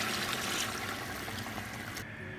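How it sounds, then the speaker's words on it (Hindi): Water pours steadily into a cooking pan for biryani, a continuous close splashing stream with no talk. "अब इसके अंदर मैं चावल गलाने का पानी डाल दूंगी।"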